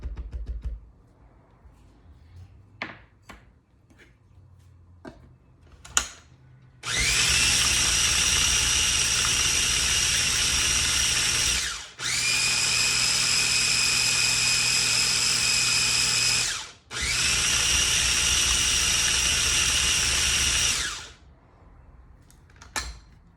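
A kitchen blender whirls hummus in three sustained bursts with short pauses between them. It is loud and close, and a few faint clicks come before the first burst.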